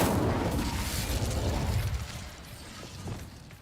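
Incendio fire spell cast in Hogwarts Legacy: a loud, dense roaring blast of flame for about two seconds, then a quieter crackling tail with a few soft pops.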